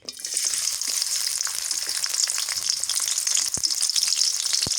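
Garlic frying in a pan for a village-style dish gives a loud, steady, bright sizzle with occasional crackles and stirring clicks, close up and without talk.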